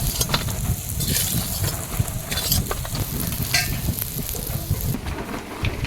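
Lata fish and pointed gourd frying together in a pan of oil, a steady crackling sizzle with bursts of sharper spitting and a few scraping stirs, close and fairly loud throughout.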